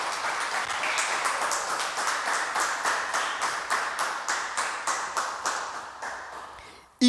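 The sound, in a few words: congregation applause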